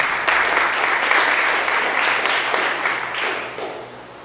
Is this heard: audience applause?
yes